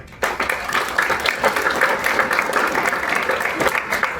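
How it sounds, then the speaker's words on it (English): A workshop audience at a constitutional conference in Red Deer bursts into steady, loud applause, dense clapping sustained throughout after a brief quiet start. "So first, a round of applause for all of you for coming out to do exactly that."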